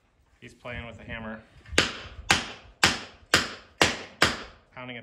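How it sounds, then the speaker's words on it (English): Six sharp, loud hammer blows strike wood in a steady rhythm, each ringing briefly, with a voice heard just before. "Pounding a piece of wood."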